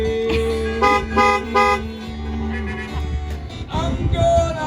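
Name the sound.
car horn honking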